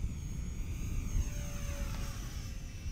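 A small Eachine RC warbird model plane, Spitfire or P51D Mustang, taking off from a marked runway with wind behind, giving a steady airy engine and propeller drone over low wind rumble, fairly faint and continuous.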